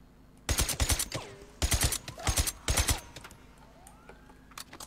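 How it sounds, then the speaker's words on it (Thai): Gunfire in the video game Days Gone comes in several short, clipped bursts of rapid shots, fairly close and muffled, with quieter game ambience between bursts and no talking. "เสียงปืนมันเหมือนเก็บเสียงเลยอะ"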